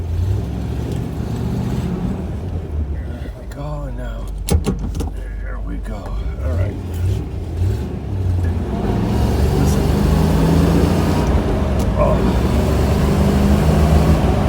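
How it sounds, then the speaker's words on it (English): A 1971 Corvette with a stick shift idles and pulls through a three-point turn, its engine rumbling low and rising toward the end, with someone talking briefly over it and mechanical clunks in between. "Now I'm going to try to do a 3-point turn, holding a camera with a stick shift"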